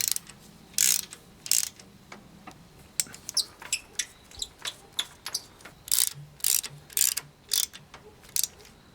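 A ratchet wrench tightens a 6mm Allen head bolt on a FAE forestry mulching head, loud clicking bursts repeating in uneven strokes close to the mic.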